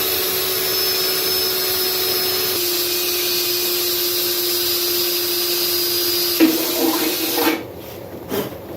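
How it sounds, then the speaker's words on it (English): A steady whirring power drill bores into the front fender of a 1991 Harley-Davidson Sportster, a constant mid-pitched whine running for several seconds before stopping, followed by brief clatter. "Get this drilled and bolt that on."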